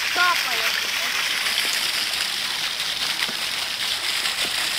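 Heavy rain pouring down on a market square, a steady wide hiss of water dripping and splashing that holds constant throughout, with voices talking briefly at the start.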